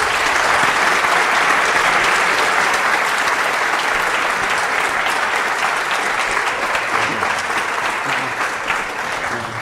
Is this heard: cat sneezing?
no